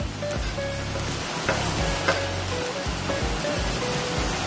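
Onion fries in hot oil as chilli and turmeric powder go in, a steady crackling sizzle broken by a few sharp stirring clinks, with no talking.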